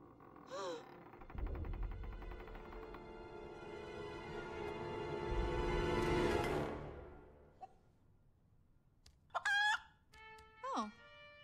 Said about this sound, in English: Oh, there's a chicken.